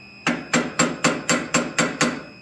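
Eight evenly spaced, ringing hammer strikes drive a ball punch into forged steel on an anvil block, loud and close, each blow decaying quickly before the next.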